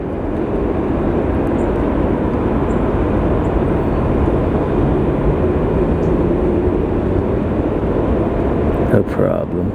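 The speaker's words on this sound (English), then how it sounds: "Aircraft rights itself after touchdown." A jet aircraft touches down at LAX and rolls out along the runway, heard as a steady, loud roar with wind noise, under a voice speaking near the recorder.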